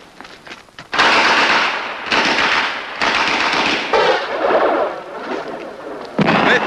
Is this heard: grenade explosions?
yes